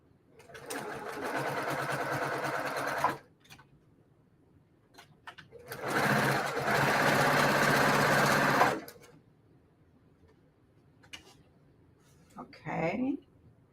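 A sewing machine stitches a quilt block in two sustained, even bursts of fast needle whirring, close and fairly loud, with quiet pauses and a brief voice near the end.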